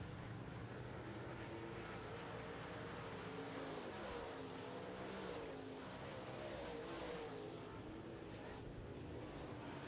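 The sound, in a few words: late model race cars passing lap traffic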